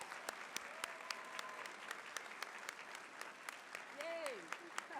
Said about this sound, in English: I wondered if all their friends and family would like to stand up so they can applaud you.